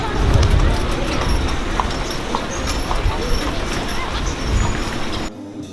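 Horse hooves clip-clop steadily on pavement nearby in New Orleans' Jackson Square, with street noise and a crowd's murmur around them.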